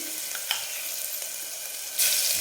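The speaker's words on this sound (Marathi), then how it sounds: "एक मिनिटभर आपण फक्त याला परतून घेऊ" Chicken sautéing with ginger-garlic paste in a pan, a steady close hiss of frying with a couple of faint stirring scrapes and a louder sizzle surge near the end.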